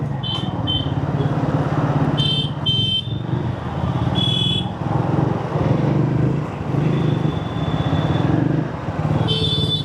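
A 2026 Triumph Speed 350 cc motorcycle idles and creeps through congested city traffic, its engine a steady low thrum close by, while several short, high car and bike horn blasts sound around it.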